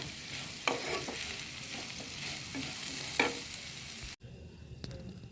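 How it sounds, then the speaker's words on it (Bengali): Vegetables with salt and chopped green chilli fry in a pan, a soft continuous sizzle with a couple of sharp clinks of the stirring spoon, fairly quiet, ending in an abrupt cut to near silence. "সব দিয়ে নাড়ব।"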